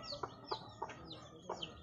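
Hens brooding on nests cluck softly in short, repeated notes, four or five quick calls close by in a quiet coop.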